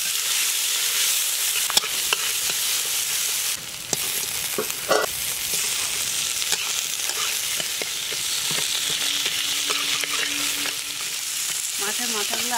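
Chopped onions fry in hot oil with dried red chillies, bay leaf and five-spice seeds, giving a steady loud sizzle throughout with occasional stirring scrapes and clinks, no voices.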